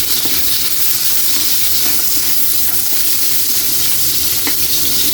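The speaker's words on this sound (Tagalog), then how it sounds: "Ilagay na rin natin, Kaylee, yung sibuyas. Ikos muna natin yan ng saglit." Onions sautéing with garlic in hot oil for pata tim, a dense, constant sizzle with faint stirring scrapes, close and steady throughout.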